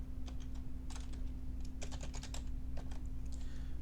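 Keystrokes on a computer keyboard typing into an input box, a quick series of light clicks in irregular bursts over a steady low electrical hum, no voices.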